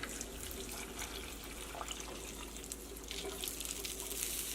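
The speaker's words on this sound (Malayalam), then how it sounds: "ഈ ജാറിൽ വെള്ളം ഒഴിച്ചിട്ട് കുറച്ച് വെള്ളം ഒഴിക്കുക" Water pours steadily into a jar while making a curry, a continuous rushing splash like a running tap, close and even, with no talking.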